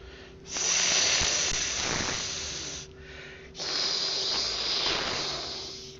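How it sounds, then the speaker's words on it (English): A long, breathy hiss like a snake, loud and close, fades briefly and then returns for a second sustained stretch. "So this hissing is coming from the south."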